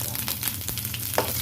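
Whole spices, a dried red chilli and curry leaves crackle and sizzle in hot oil for a lentil dish, a steady close frying hiss with a few sharp pops and no voices.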